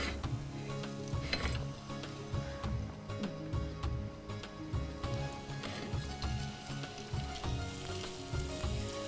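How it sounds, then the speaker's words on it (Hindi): Boti meat pieces frying in a pan alongside chicken and green chilies, a steady close sizzle with rhythmic stirring and scraping throughout, no talking over it. "इसकी भी फ्राई करनी, वो भी रख देते हैं"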